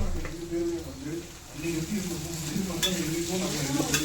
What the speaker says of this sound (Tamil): சிக்கன் 65 பொரிக்கிறதுக்கு அந்த எண்ணெய்.